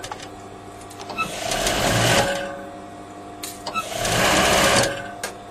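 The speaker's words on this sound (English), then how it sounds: "I'm just going to sew where I've pinned. So it's a really easy straight line of stitching." A sewing machine runs a straight line of stitching on a jumper in two close, steady bursts of rapid mechanical whirring, with quiet pauses before, between and after.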